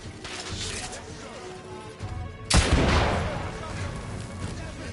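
Gunfire in The Order: 1886 crackles in the background, then one loud close blast hits sharply and rolls into a rumbling tail, with battle noise and a voice underneath.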